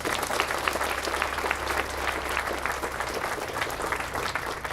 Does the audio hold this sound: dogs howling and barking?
no